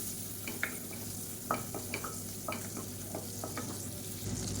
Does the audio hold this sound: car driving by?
no